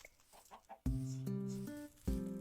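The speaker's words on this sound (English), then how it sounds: "It's chickens." Minecraft chickens cluck in short, bright, tonal bursts, two or three close calls in quick succession following a few softer sounds.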